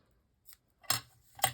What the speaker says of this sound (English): Just going to cut some pieces up.